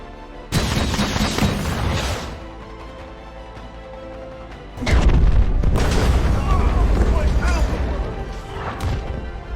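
Two deep booming blasts, the second heavier and rumbling, with crashing debris and sustained roar between them.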